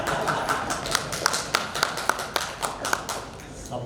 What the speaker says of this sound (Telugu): నువ్వు చప్పట్లు కొట్టాలి.